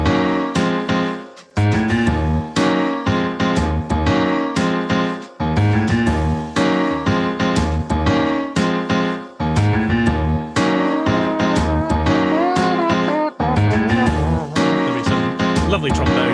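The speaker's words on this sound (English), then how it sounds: "Lovely trombone there on my thick trombone." Big band plays a Christmas intro with piano, bass, drum kit and a prominent trombone, a full, loud ensemble sound with short breaks between phrases.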